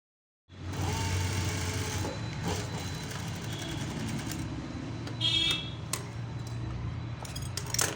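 A sewing machine runs steadily while stitching piping onto fabric, a continuous close whirring hum that starts abruptly and carries on with faint rattling and clicks throughout, without any speech.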